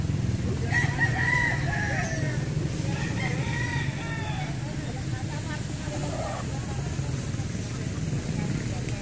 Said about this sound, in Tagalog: Yan, oh, mga pabo.